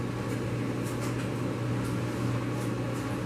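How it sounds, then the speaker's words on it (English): An air fryer running in a home kitchen, giving a steady close electric hum and fan whir that holds even throughout with no talking. "I got the air fryer on."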